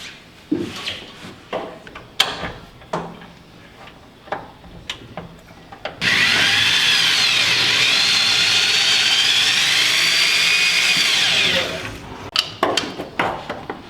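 A power drill runs steadily for about six seconds, drilling out parts on a 1965 Chevy C10 shop truck, loud and continuous, framed by scattered shop clanks and knocks before and after.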